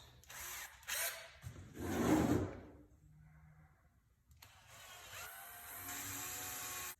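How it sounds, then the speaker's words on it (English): A power drill whirs in short bursts drilling a pilot hole, then a longer steady drilling run, close and fairly loud with a brief quiet gap between, on a 2018 Polaris RZR XP 1000. "Put the initial drill hole, and then we'll go and we'll keep stepping it up"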